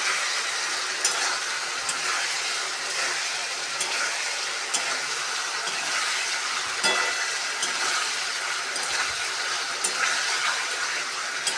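Eggs sizzling loudly in hot oil in a pan for egg curry, a dense continuous crackling hiss with occasional scraping stirs, close and steady throughout with no talking.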